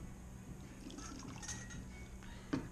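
Two cups of hot water pour steadily into a container with a gentle liquid rush and a few splashy trickles, ending in a small clunk, and no one speaks.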